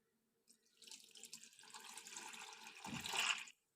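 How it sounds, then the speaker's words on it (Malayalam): Normal tap water poured from a cup into a mixing cup for a breakfast batter, a steady close splashing trickle that swells louder near the end before stopping abruptly. "അപ്പോൾ ഇതാ 1 കപ്പ് വെള്ളവും കൂടി ഞാൻ ഇതിലേക്ക് ഒഴിച്ചു കൊടുക്കുന്നുണ്ട്"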